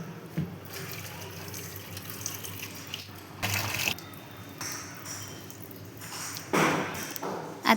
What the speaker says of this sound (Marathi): तर पहा, मी 2-3 पाण्याने डाळ चांगली धुवून घेतलेली आहे.